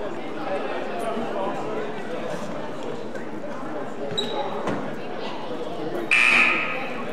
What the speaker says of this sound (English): use some authority when pushing the buzzer